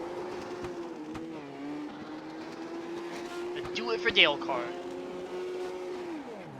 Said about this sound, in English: As you'll be doing some burnouts here.